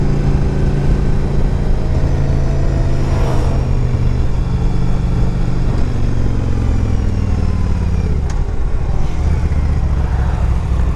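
A 2005 Yamaha V Star 1100 carbureted V-twin motorcycle engine runs loud and close, its low throbbing note shifting in pitch as it revs up and down, with passing road noise and no speech.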